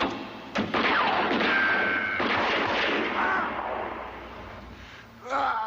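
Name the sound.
gunshots fired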